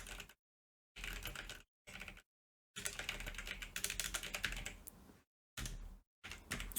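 Quick bursts of typing on a computer keyboard, close and soft clicking in short runs broken by brief silences.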